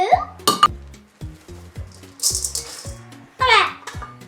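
Dry oatmeal being scooped and measured into cups in a home kitchen, with repeated close rattling and clinking of cups and utensils while voices are heard.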